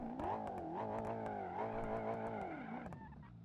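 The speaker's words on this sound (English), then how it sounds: "Oh yeah, this thing can do burnouts." A car revs hard through a burnout, its engine note rising and holding as a steady harmonic drone, with a faint squeal of tires over it. The sound stays loud and close throughout, then fades slightly at the end.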